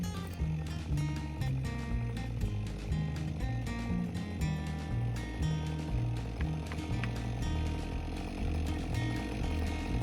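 A chainsaw completes the back cut while felling a tree in a dense stand, the engine droning loud and steady with fluctuating revs throughout.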